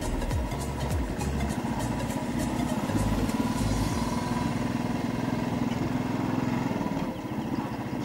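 A motorcycle with no clutch cable rides along, its engine droning steadily and close, with a low rumbling pulse that holds throughout and eases slightly near the end.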